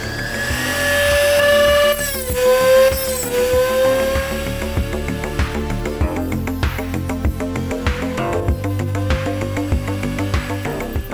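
A power tool grinds away at a plastic AK magazine being converted for airsoft, a loud, steady whine with pitch dips under load and shifting rhythmic chatter as the bit bites the plastic, no talking.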